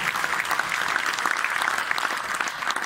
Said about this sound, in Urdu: آپ کی بھرپور تالیاں ہونی چاہیے شاعروں کی